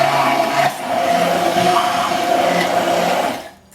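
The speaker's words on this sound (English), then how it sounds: "now I'm going to blend this with the immersion blender" An immersion blender whirs steadily through a batch of homemade ketchup, loud and close, with a brief dip in pitch midway before cutting off at the end.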